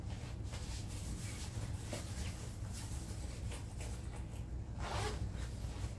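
Zippered pocket on a concealed carry jacket being worked open and shut, several quick close-up rasping zips in a row over a quiet room.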